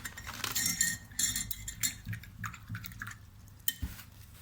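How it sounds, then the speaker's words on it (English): A spoon mixes watercolor paint for a Kerala mural, producing faint, irregular clinks and light scraping taps against a small dish, close and with no talk. "Again, I'm using my spoon to mix the color like this."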